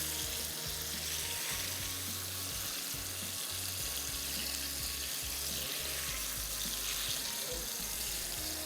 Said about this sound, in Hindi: ये हमने बैटर में डिप करके फ्राई कर लिए हैं।